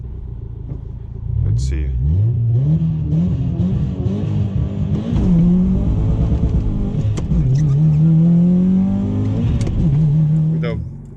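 A European-market Subaru STI with an EJ engine pulls hard, its engine note rising and falling as it revs under load. The sound is close and steady, with a brief spoken remark over it.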